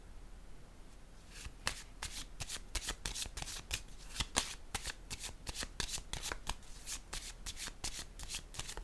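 Tarot cards are handled and laid out on a spread, producing a quick series of crisp, close papery flicks and slaps in an otherwise quiet room.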